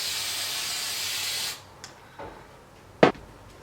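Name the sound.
hairspray being sprayed on hair roots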